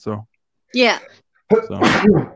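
A single sharp, loud sneeze bursts out after two brief bits of nearby talk, with a short pause between them.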